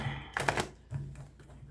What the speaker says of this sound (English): That was an interesting shuffle.